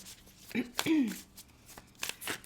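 Tarot cards being shuffled by hand, a few soft papery riffles and slides close to the microphone, with a person talking quietly over them.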